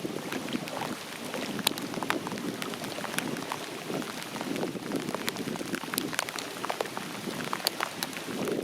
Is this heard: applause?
no